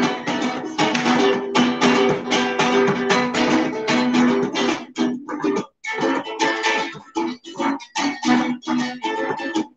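Cuatro built from recycled wood and a cookie tin, strummed in quick rhythmic bursts with bright chords and short pauses, played alone and close.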